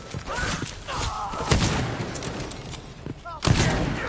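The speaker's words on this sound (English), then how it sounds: "Is that a gunshot?" Gunfire from the stealth video game Dishonored 2: two sharp, loud shots about two seconds apart, with muffled game ambience and voices in between.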